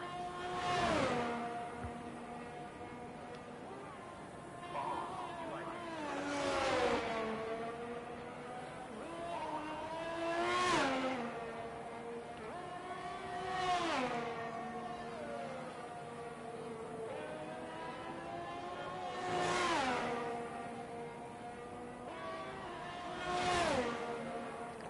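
Ferrari Formula 1 car on the Saudi Arabian Grand Prix circuit in a racing game, its engine wailing up through the gears with repeated rising pitch sweeps and sharp drops at each shift, steady and prominent across a qualifying lap.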